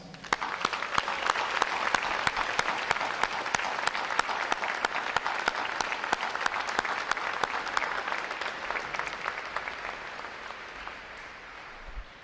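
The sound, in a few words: graduation audience applause for families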